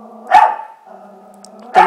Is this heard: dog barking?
yes